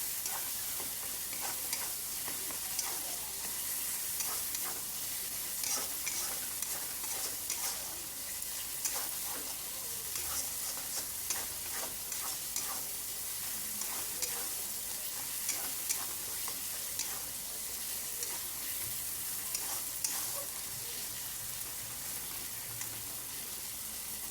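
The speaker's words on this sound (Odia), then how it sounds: "ଏଠି ଟମାଟୋ ଏବଂ ଅଦା ଆମର ଭଲସେ କଷି ହେଇଗଲାଣି।" Tomato and ginger sautéing in a pan for a vegetarian curry, a continuous sizzle broken by frequent scraping stirs from a spoon, close and steady, without talk.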